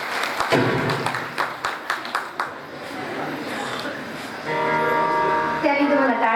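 An audience claps in a steady rhythmic beat at a Marathi Hindu devotional gathering of Bhagavat katha and kirtan during a harinam saptah, then a sustained sung or played musical tone takes over.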